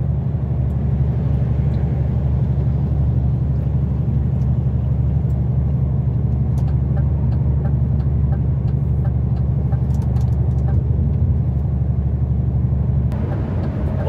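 A car overtakes a truck on a French highway near Rouen, a steady loud road rumble and engine drone from inside the vehicle holding constant throughout, with no talk.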